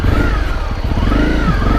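A motorcycle ridden on an off-road rally track drones loud and close, its engine note rising and falling steadily over rough ground without pause.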